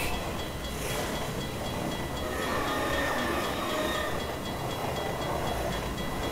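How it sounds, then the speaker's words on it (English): Train from a Half-Life 2 mod rumbles past the player, a steady loud roar of rolling wheels and rattling cars with faint metallic clinks, unbroken and close. "And run over by a train."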